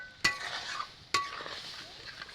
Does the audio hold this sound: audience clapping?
no